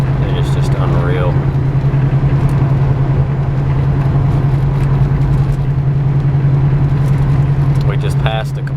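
A 1996 Buick Roadmaster wagon with the LT1 V8 pulls hard, its steady low engine drone filling the cabin throughout, with a faint brief chirp near the end.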